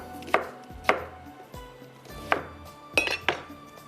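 Onion is added to a cooking pot and stirred with a spoon, giving several sharp clinks and scrapes against the pot at uneven intervals.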